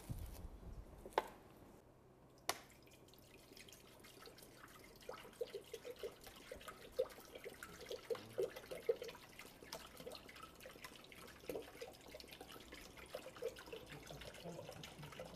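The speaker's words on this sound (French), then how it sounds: "je vais mettre 800 g d'eau dans le Thermomix" Water, 800 g of it, is poured into a Thermomix bowl as a faint, steady trickling splash with a few small drips and knocks, quiet and close, with no talking.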